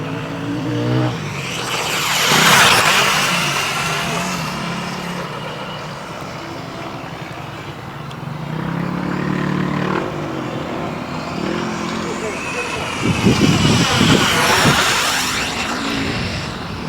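A WLtoys 184016 RC car races at high speed, its small electric motor whining loudly as it passes close, fades a little, then sweeps past again with a second rising, falling surge.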